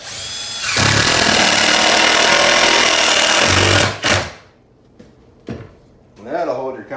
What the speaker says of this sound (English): Just take some screws and screw right to the countertop.